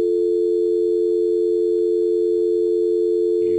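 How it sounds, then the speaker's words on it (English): A steady, continuous VoIP telephone dial tone hums alone at an even level, close and clear, with no talking. "You should hear a dial tone."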